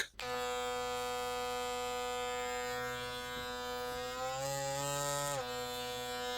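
A steady Wmark NG XT1 electric hair trimmer motor buzzes continuously and close up, with a brief dip and rise in pitch near the end before settling again.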